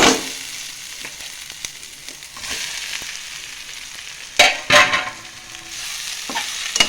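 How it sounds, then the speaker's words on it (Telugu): Cut omelette pieces frying in a pan for an Indian egg omelette curry, with steady sizzling and occasional stirring scrapes and clinks, close and moderately loud, no talking. "ఈ విధంగా బాగా ఫ్రై అయ్యాక మనం ముందుగా కట్ చేసుకున్న ఆమ్లెట్ ముక్కలను వేసుకోవాలి."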